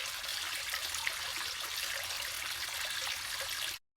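Tap water runs in a steady, continuous hiss and splash indoors for about four seconds, fairly faint and alone with no talking, then cuts off abruptly.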